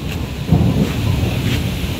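Thunderstorm with rain at a rooftop pigeon loft among mango trees, lightning flashing: a steady hiss of rain over a deep rolling rumble of thunder, loud and continuous, with no talking.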